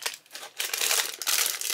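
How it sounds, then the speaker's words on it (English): Plastic packaging holding metal hair clips crinkles up close in loud, continuous crackling bursts with a brief pause, no talking. "I'm sorry for the crinkling."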